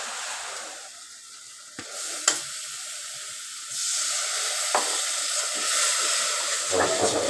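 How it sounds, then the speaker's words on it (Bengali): Spice masala frying in a pan, a steady hiss and sizzle with a few sharp clicks of a spatula against the pan, growing slightly louder toward the end. "এই তো এখন আমার মশলাটা কষানো হয়ে গেছে"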